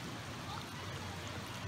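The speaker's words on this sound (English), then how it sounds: "You can see the water cascading down the rocks in this beautiful water hole." Continuous rushing wash of water cascading down rocks in a small creek into a deep natural swimming hole, a steady, broad hiss with no pauses.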